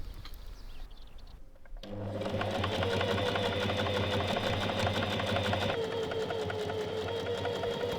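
After a brief quiet moment, a sewing machine starts and runs steadily at a loud, even hum while stitching two flat, aligned fabric layers along a long edge, continuing without pause to the end.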